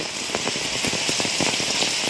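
Heavy monsoon rain falls steadily at a temple in Guhagar, a dense continuous hiss with scattered drops striking nearby surfaces, heard alone with no voices.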